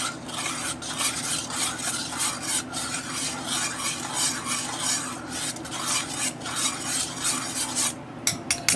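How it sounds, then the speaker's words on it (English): A utensil stirs boiling water into a pork chop brine in a dish, with continuous scraping and clinking strokes in a steady rhythm, close and fairly loud. "now we're going to add in a couple of cups of water, boiling water, as before. Okay, and we'll stir that up."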